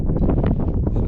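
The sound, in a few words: strong wind gusts at mountain saddle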